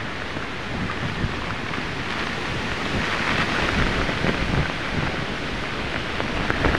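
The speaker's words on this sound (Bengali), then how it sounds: "তো এখনো প্রচন্ড বাতাস।" Strong storm wind roars steadily during a flood brought by Cyclone Remal, a dense, continuous rushing noise close to the microphone that sounds like driving rain and surf, with no talk.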